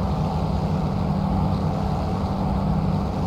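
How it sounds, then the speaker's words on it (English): Piston engine of a P-40F Warhawk fighter in a flight simulator, a steady, loud, low droning roar sustained throughout without talk. "Certainly can't complain about those engine sounds though"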